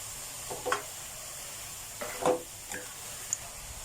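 Thai moo yor pork sausage is stir-fried in a pan with straw mushrooms, making a few faint, brief scraping stirs over a soft sizzle, close by with no talking.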